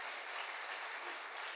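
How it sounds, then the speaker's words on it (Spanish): A church congregation applauds, a dense, even wash of clapping heard at a low level and without pause for a brief moment. "Dale un aplauso al Rey bendito."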